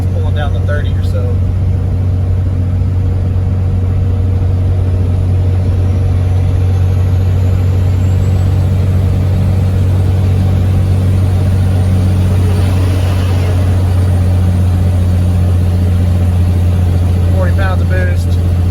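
Cummins diesel engine in a Ford F350 drones steadily at low pitch while towing cattle and hay, a constant loud hum from inside the cab with faint road noise throughout.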